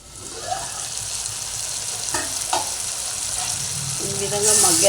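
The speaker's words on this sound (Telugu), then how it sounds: "ఈ విధంగా మగ్గేంత వరకు ఉడికించుకోవాలండి టమాటోస్ని" Tomatoes for an amaranth tomato curry cook in a pan with a steady, fairly close sizzle and occasional stirring scrapes, and a voice is heard near the end.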